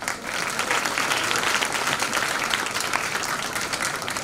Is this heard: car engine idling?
no